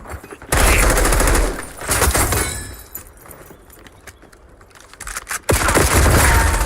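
Video game shotgun fire comes in loud, close bursts of rapid, rattling blasts, with a quieter stretch of scattered clicks and clatter between them and no speech over it.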